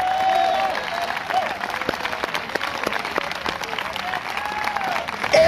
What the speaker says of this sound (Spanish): Dele palmas a Cristo.